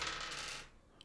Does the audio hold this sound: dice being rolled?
yes